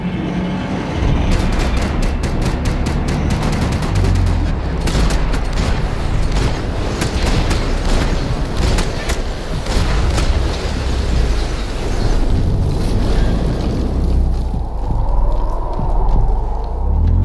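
Gunfire in the video game Max Payne 3, a dense, loud, continuous barrage of shots and booming blasts packed over each other, with rapid cracking bursts throughout and heavy low rumble underneath.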